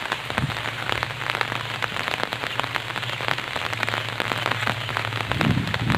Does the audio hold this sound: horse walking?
no